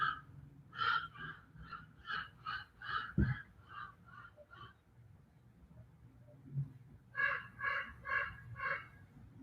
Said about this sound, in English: He sounds like he's so close, doesn't he? Crows or ravens